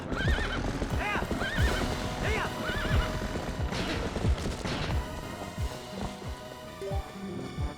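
A horse neighs repeatedly over a dense bed of clattering hooves and crashing game effects in The Legend of Zelda: Twilight Princess, loud and busy throughout.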